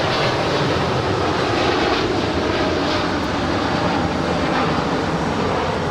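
A two-year-old United Boeing 787-9 Dreamliner departs Los Angeles LAX for London Heathrow, its engines producing a loud, sustained broadband roar that holds steady throughout.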